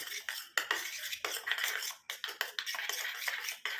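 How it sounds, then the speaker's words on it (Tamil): Castor oil and petroleum jelly being stirred together in a bowl for a homemade hair dye, close, repeated scraping and clinking of a spoon against the bowl in an irregular rhythm, with no talking. "இப்போ இந்த விளக்கெண்ணையும் இந்த வேசலையும் மிக்ஸ் பண்ணிக்கோங்க"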